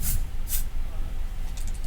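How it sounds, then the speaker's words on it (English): Two short hissing bursts of an aerosol spray being applied to feet, a quick pair of sprays near the start followed by a fainter one near the end, with low background noise. "Spray things on my feet."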